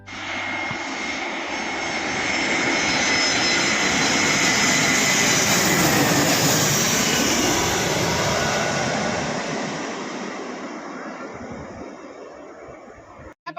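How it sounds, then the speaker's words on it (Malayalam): A jet airplane arriving at an airport roars loudly and steadily, its engine noise swelling over several seconds and then fading, heard alone without talk. "ഫ്ലൈറ്റ് വന്നിട്ടുണ്ട്, കാണിച്ചു തരാം."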